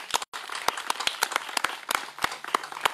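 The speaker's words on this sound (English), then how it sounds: "Give yourselves a hand clap of praise." A congregation at a church service claps hands in praise, a brisk, uneven run of sharp claps from a small group close by, with no talk over them.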